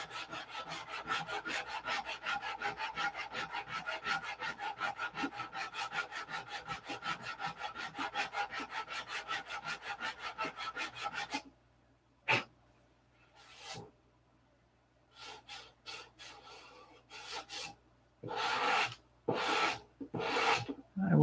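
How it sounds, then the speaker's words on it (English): Steady rhythmic rasping of sandpaper on wood for about eleven seconds, then quieter scattered scrubbing strokes with pauses between them, in a hangar. "Then the sanding."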